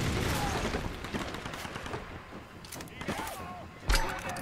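Pump-action shotgun blasts in a Tomb Raider game, a few heavy booming shots amid dense crackling gunfire, the strongest blast near the end, with a voice talking over the action.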